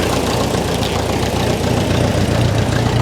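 A Ferguson TE20 tractor engine idles steadily at close range, a continuous loud low rumble with a faint knocking texture and no talk over it.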